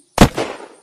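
A single sharp gunshot from the survival video game Unturned, close and loud, with a short echoing tail after the crack.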